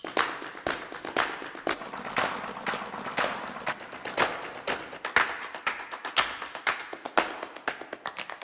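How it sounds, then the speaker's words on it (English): Clap, finger-snap and footstep samples from the Shimmer Shake Strike 2 percussion library, with bright, sharp hits in a steady stream of roughly one to two per second, close and dry, each one short and crisp. "So here are the claps, snaps,"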